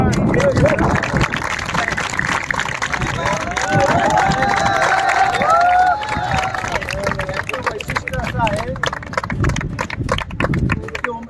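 Loud, dense applause rises from a crowd at a school football tournament, continuous and close, with voices and cheering mixed into the clapping.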